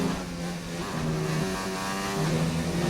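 Race cars in a racing video game league on the Austria circuit scream past with high, shifting engine tones and revving, layered engines blending at moderate loudness without speech.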